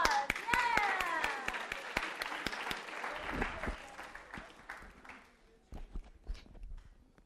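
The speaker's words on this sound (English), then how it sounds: "Yeah, round of applause." An audience at a spring graduation orientation breaks into applause, loud dense clapping at first that gradually thins and fades, with scattered voices underneath.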